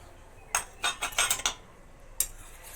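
A metal spoon clinks against a bowl while scooping aloe vera gel for a facial, several quick bright taps in a cluster followed by one more clink after a pause, close and alone.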